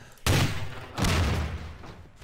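Two sharp, booming bursts a second apart, each a loud crack trailing into rumbling noise, explosive barrels blowing up close in Garry's Mod.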